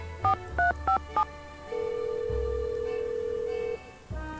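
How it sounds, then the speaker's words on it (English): Telephone dialing in the video game Nancy Drew: The Phantom of Venice: four quick two-tone keypad beeps, then a long steady ringback tone, close and clean, with a soft click near the end. "Call the Nedster first"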